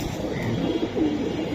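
Silver Giribaz pigeons cooing softly nearby, a short low murmur of coos over a steady background hum.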